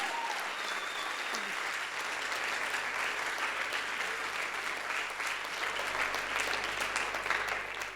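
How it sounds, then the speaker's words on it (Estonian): An audience at a playback show event claps loudly and continuously, a dense sustained wall of applause throughout with no break. "tehke nüüd plaksutage!"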